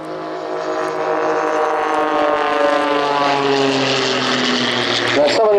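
A jet-assisted Pitts aerobatic biplane performs hovering manoeuvres at an airshow, its loud propeller engine holding a steady, close, droning roar with a slight pitch shift toward the end.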